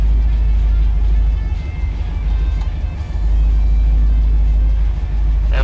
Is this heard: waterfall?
no